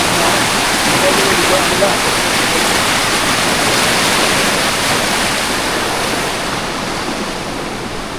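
Loud, continuous rushing water fills the scene, a broad steady wash of floodwater flowing over a road and farm plots, with faint voices briefly audible beneath.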